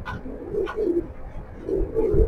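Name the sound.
pigeon cooing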